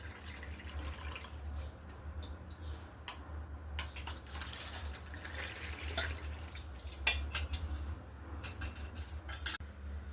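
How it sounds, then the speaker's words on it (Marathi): Homemade lemon sherbet drips and trickles through a sieve, with a light patter of droplets and occasional faint clinks of utensils, quiet and close. "तर या पद्धतीने चाळणीने गाळून घ्यायचं."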